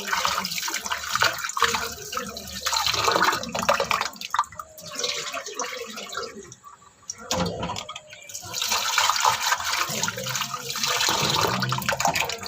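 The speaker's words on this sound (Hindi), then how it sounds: "ये दाल धुल गई" Water runs and splashes while dal lentils are rinsed in a home kitchen, a steady close gush with a brief lull in the middle before the flow picks up again.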